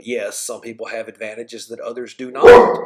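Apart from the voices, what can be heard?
dog barking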